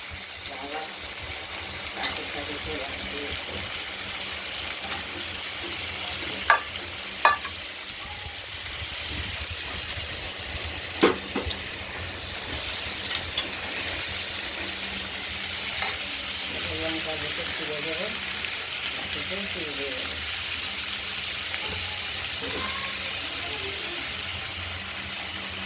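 Thin pumpkin strips frying in hot oil in a wok with mustard seed tempering, a continuous close sizzle with stirring and occasional sharp spatter pops, while a person talks over it intermittently.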